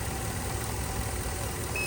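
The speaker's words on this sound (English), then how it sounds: "I let the engine idle" A Ford F250 engine idles steadily after a new battery install, a continuous low rumble holding even and close throughout with no speech over it.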